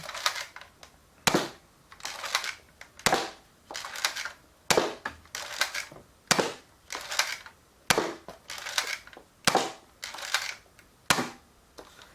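Modified Nerf Hammershot blaster fitted with a 7-shot cylinder fires repeatedly, giving about nine sharp, loud cracking snaps at a steady rhythm roughly one per second and a half, each clear and close with quiet gaps between.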